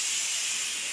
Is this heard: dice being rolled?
no